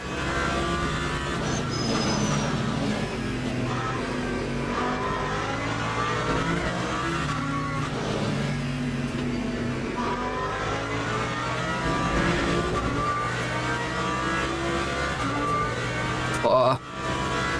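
A race car engine in the Le Mans Ultimate racing game revs steadily. The drone rises and falls through gear changes, holding a continuous, loud tone for the whole stretch.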